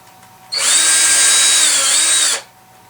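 A power drill pre-drills holes in a fretboard jig, spinning up close and loud, whirring steadily for about two seconds before winding down, with quiet before and after.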